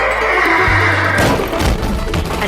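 A horse gives a loud, close whinny that rises and falls for about a second, followed by thumping, scuffling sounds.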